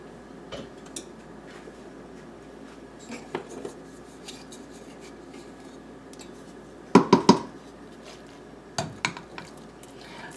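Cooked ground beef, sautéed with garlic powder and oregano, is scraped into a pot of homemade tomato meat sauce, giving soft stirring and scraping with a few sharp utensil clanks against the pot, close by and otherwise quiet.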